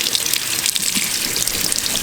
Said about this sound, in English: Go ahead and turn the water on again.